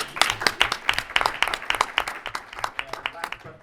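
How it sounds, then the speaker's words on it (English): Audience applause at a Puerto Rican diaspora civic engagement summit, a thin scattering of individual claps, fairly quiet and uneven, tapering off toward the end. "Round of applause."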